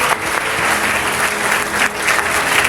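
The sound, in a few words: audience applause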